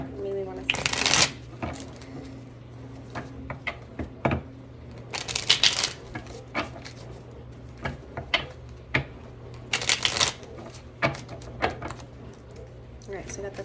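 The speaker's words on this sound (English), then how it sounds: "I'll shuffle." Tarot cards shuffled repeatedly up close, with bursts of rapid riffling separated by softer taps and slides as the deck is handled.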